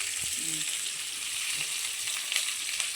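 Hot cooking oil sizzles and fries in a home kitchen pan, giving a steady, loud, hissing crackle throughout with a faint voice briefly underneath.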